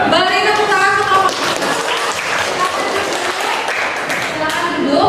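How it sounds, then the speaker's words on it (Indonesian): Applause from a class after a group presentation, a dense burst of clapping over about five seconds with voices talking over it. "Beri tepuk tangan untuk kelompok."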